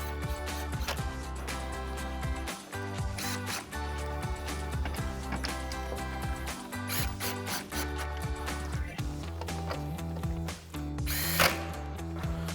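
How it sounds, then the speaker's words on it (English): Power drill fitted with a 10mm socket driving screws on a 2018-2020 Ford F-150 front end during headlight installation, in repeated whirring bursts with brief pauses, close and steady. "Now we can grab our 10mm socket and reinstall our 4 10mm screws up top."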